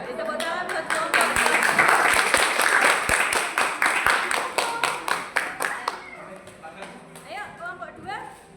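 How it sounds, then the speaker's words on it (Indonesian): Audience applause after a school drama performance about the Kalinga kingdom, dense clapping from a class that thins into scattered claps near the end, with voices talking and calling out over it. "Tepuk tangan buat kelompok."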